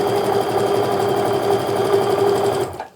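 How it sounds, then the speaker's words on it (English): A sewing machine stitches quilt pieces together, a close, fast, even mechanical whirring that runs steadily, then slows and stops at the end. "now I'm going to sew this piece to the other side of my little center guy here"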